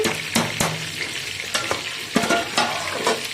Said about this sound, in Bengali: চালটা দেওয়া হয়ে গেছে একবার নেড়ে দিচ্ছে